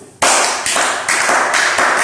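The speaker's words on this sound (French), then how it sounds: "Applaudissez pour vous." A burst of dense, loud crowd clapping begins abruptly and continues in several sustained waves, with no voices over it.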